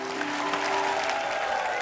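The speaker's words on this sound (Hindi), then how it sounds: "जोरदार तालियां" A short burst of studio audience applause on a comedy talk show, steady clapping from a crowd, with a faint tonal murmur underneath.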